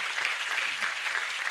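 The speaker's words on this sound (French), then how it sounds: "On peut applaudir ça." Short round of audience clapping at a talk on fighting the far right, a moderately loud, even patter of many hands heard alone for under two seconds.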